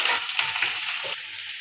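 Potatoes tossed into a wok with already-fried shrimp over a bay leaf and five-spice tempering sizzle loudly and steadily, a close, continuous crackle with no voices.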